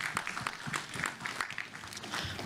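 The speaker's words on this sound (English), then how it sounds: "Weak applause" Thin, scattered applause from a small live audience, a few hands clapping unevenly for a couple of seconds with faint background murmur.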